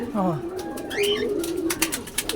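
Pigeon hens cooing close by in a loft, a few soft rising and falling coos, with someone speaking and some clicks and rustling in the background.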